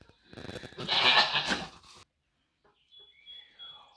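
A close, loud goat bleat rises and wavers for about a second, then silence, followed by a faint thin high call, inside a barn.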